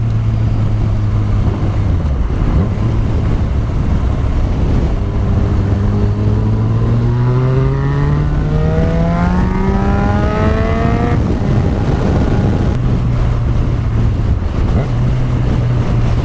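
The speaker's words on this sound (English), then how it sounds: "If you've heard an R6 with an exhaust, that's exactly what this bike sounds like." A Yamaha FZ6R motorcycle with a custom aftermarket exhaust idles, then revs up with a climbing pitch before dropping back to a rumbling idle, with steady wind noise throughout.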